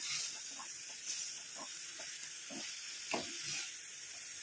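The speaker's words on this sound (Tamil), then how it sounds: "போட்டோன்னே இந்த மாதிரி நல்லா கிண்டி விட்டுட்டே இருக்கணும்" A heated homemade hair dye mixture is stirred in a pan, with soft, repeated scraping strokes under a steady hiss of simmering.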